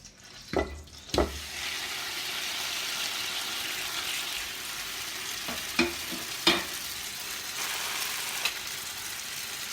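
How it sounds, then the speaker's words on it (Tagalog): Macaroni and spaghetti stirred into melted butter in a hot pan, a steady sizzle broken by several loud scraping and clanking stirs. "Tunaw na yung butter. Ngayon, lalagay na natin yung ating pasta at spaghetti."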